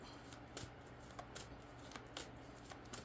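Soft, repeated riffling of cards in quick bursts against a steady low hum, fairly quiet and close, with no talking.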